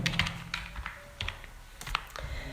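Quick, irregular clicks of a computer keyboard as a captcha is typed in, close and crisp with short pauses between bursts of keystrokes.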